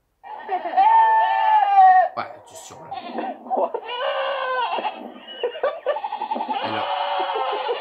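Goats bleat loudly and close by, one long wavering cry followed by several shorter bleats. Someone speaks briefly in between.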